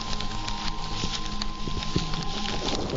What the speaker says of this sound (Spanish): El crujir de la tierra delata los efectos de no recibir lluvia